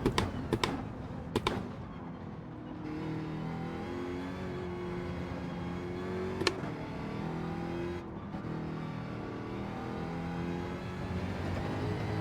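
A race car engine in Gran Turismo 7 drones and revs under changing throttle, holding a steady whirring tone with several sharp clicks and bumps along the way.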